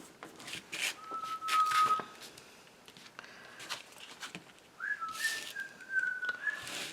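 A pet bird outdoors gives a few thin, drawn-out whistles. They are faint and distant, spread over a soft, patchy background of rustling and shuffling.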